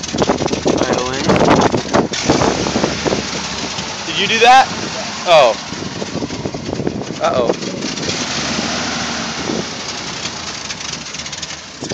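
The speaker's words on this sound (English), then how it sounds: "It takes a while to settle into an idle." A Jeep engine that has sat unused runs just after starting, rumbling unevenly as it works toward a settled idle, with people talking over it close by.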